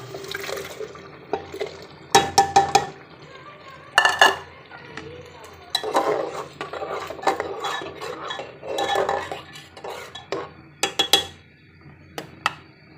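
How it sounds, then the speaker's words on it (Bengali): Coconut paste goes into a curry pan with whole spices and bay leaf for a rooster curry. A spoon gives intermittent close clanks and scrapes against the metal between quieter wet stirring. "এখন আমি এই পর্যায়ের মধ্যে দিব নারকেল বাটা"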